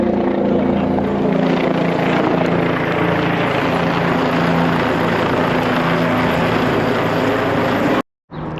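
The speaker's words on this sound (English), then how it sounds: "Sorry about that helicopter." A helicopter drones loudly and steadily overhead, its rotor throb continuous throughout before cutting out abruptly near the end.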